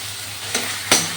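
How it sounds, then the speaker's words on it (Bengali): Chhana, a fresh cottage cheese, fries in hot oil in a pan with a loud, steady sizzle, broken by two short bursts as it is stirred or turned. "এবারে আমি এই তেলের উপরে ভালো করে ছানাটাকে বেশ সুন্দর করে ভেজে নেব।"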